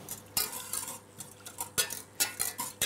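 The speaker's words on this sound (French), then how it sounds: "Je vais mélanger un petit peu avec mon fouet." A whisk stirs milk with vanilla pods in a pan, clicking and scraping against the metal in quick irregular strokes close up, with no voices.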